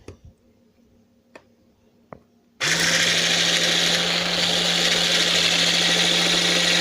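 An electric mixer beats cake batter. After a few quiet knocks it switches on abruptly and then runs as a loud, steady motor whine with a constant drone that holds to the end.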